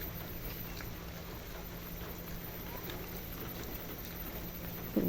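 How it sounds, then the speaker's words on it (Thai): Morning rain falling steadily over a natural fruit garden with rambutan trees, a constant soft hiss with no breaks. "ฝนตกยามเช้าจ้ะฝนตกยามเช้า"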